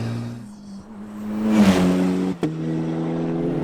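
A 400 bhp Ariel Atom 4R in sixth gear pulls hard with a loud, close engine drone that rises steadily, then dips briefly at a sharp shift-like break and resumes.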